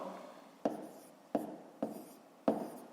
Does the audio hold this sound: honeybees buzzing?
no